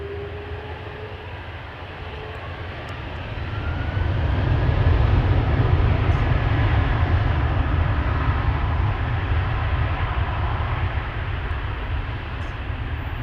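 A Hi Fly Malta airliner departs from Amsterdam Schiphol. A low jet rumble swells after a few seconds into a loud, sustained roar that holds steady, with no voices.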